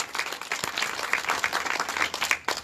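An audience applauds a speaker at a community event in Villa Panamericana, Chancay, with steady close crowd clapping lasting throughout.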